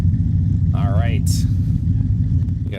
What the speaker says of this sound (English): We got some loud idling cars over there.